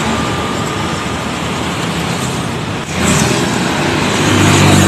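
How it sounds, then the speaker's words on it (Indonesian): A Jet Bus 3 Garuda Mas coach passes on a road, a steady loud engine and road roar that swells around the midpoint and grows heavier toward the end, with no talk. "Dari timur teman-teman, satu unit, wah ini Jet Bus 3 Garuda Mas lagi teman-teman"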